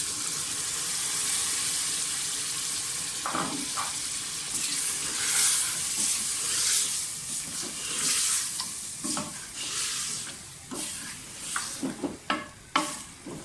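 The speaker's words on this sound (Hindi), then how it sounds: "अब मैं दाल को भूनूंगी साथ ही गोश्त के।" Continuous sizzling of lentils frying with mutton in a pan, with occasional scraping and stirring strokes, growing choppier toward the end.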